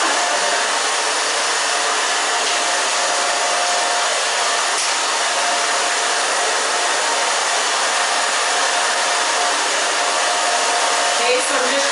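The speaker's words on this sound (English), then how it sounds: "blow dryer in your face" A handheld blow dryer runs steadily and close, drying short pixie-cut bangs in a salon-style setting, a loud continuous airy roar with no breaks for the whole stretch.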